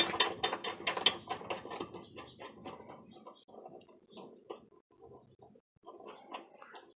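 A ratchet tightens a regular 8mm nut on a running board bracket for a 2017 Ram 1500, giving rapid close clicking bursts that slow into sparser, fainter clicks with short pauses.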